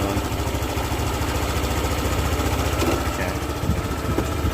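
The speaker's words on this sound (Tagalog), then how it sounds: "And medyo mag-aralgal yung andar." A Honda Click 150 scooter with hard starting and lost compression runs roughly at idle, a loud, close, continuous uneven engine drone with slight irregular pulsing throughout.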